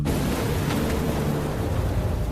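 A powerful explosion from a plane crashing into the ground roars as a dense, sustained blast of broadband noise, loud and close throughout with no other sounds.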